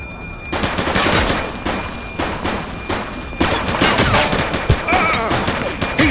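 Police gunfire in The Precinct, with officers shooting down a suspect: a dense volley of close, loud shots in rapid bursts, broken by short pauses before resuming.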